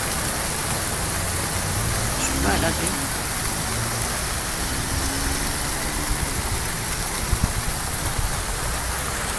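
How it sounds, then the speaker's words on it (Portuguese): A heavy rain shower pours down in São Vicente, São Paulo, a dense, steady hiss of rain striking surfaces throughout, while people talk nearby. "Olha que chuva, olha."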